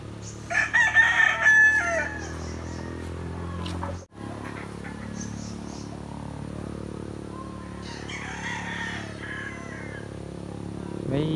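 A young game rooster on a game farm lets out one clear crow near the start, followed by a low outdoor rumble and faint farm background.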